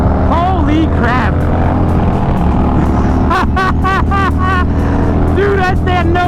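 A 2020 Indian Challenger and a 2017 Harley-Davidson Road Glide accelerate hard, and their loud, continuous engine roar rises and falls in pitch through the gear changes. Voices talk over the noise.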